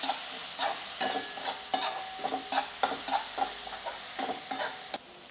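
Green chillies frying in a pan with turmeric and salt, a soft sizzle under regular stirring strokes of a spoon scraping the pan, close and fairly quiet.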